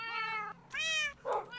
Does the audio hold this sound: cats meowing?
yes